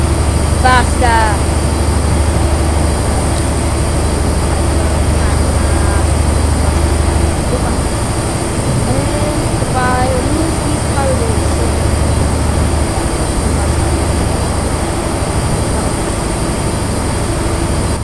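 A train engine hums steadily at high speed in the video game Train Simulator 2014, with a low continuous drone and a few brief tonal chirps, while a person talks over it throughout.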